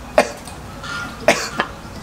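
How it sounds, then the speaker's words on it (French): A person coughs a few times in quick bursts, close and fairly loud, with short pauses between coughs and no speech. "Tu tousses."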